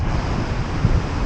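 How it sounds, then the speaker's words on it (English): Ocean waves break on a New Zealand beach of cold water along the East Cape to Bay of Plenty coast, a steady, close, low roar of surf mixed with gusty wind buffeting the microphone, with no talking. "What good waves."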